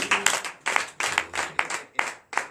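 A church congregation claps in a steady rhythm of bright, sharp handclaps, roughly two to three beats per second, close and fairly loud at a deliverance and prophecy night service.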